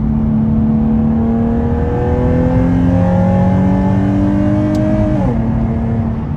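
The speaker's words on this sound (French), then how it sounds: "Là, j'ai changé le rapport à 6500 tours minutes. Le bruit est complètement jouissif." A Nissan 370Z sports car engine revs steadily higher, then drops sharply as the gear shifts at 6500 rpm and climbs again; loud and close, with no talking.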